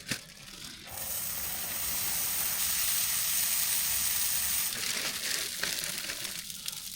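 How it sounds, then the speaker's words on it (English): Cheese and a tortilla frying in a pan at a snowy winter campsite, a broad steady sizzle that swells after a brief clunk, holds for several seconds and then eases off, close and fairly loud with no voices. "Put the cheese straight into the pan and put the tortilla on top, so you have a super crispy cheese skirt."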